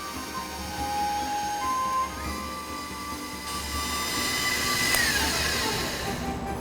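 An electric mixer running at medium speed through apple cake batter for an Irish apple cake, with a steady motor whine and shifting high tones humming continuously up close. No one speaks.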